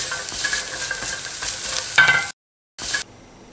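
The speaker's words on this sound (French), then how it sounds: "une fois que j'ai correctement grillé les amandes" Almonds roasting in a pan of oil for sellou sfouf, sizzling and crackling as they are stirred, close and continuous, then a short silent gap and a final brief burst of sizzle.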